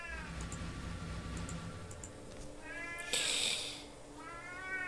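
A needy house cat meows insistently up close, three drawn-out, wavering cries spread across a few seconds, with a short burst of broadband hiss between the second and third.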